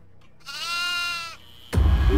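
Goat in the farmhouse of the horror game Devour, one loud, wavering nasal bleat close by, followed by a sudden burst of heavy low noise.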